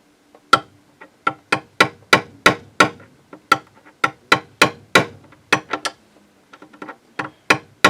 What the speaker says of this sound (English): we're going to try to persuade this nail to go where I want it to by using the screwdriver and the hammer